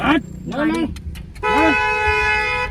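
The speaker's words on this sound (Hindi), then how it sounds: "हॉर्न दो," A car horn honks in a sustained blast over engine noise, while people talk nearby.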